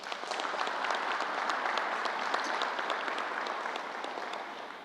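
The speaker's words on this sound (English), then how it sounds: "Let's give them another round of applause." An audience gives Mayor Spano and County Executive George Latimer a round of applause at a COVID-19 update event, with sustained, moderately distant clapping filling the moment with no speech on top.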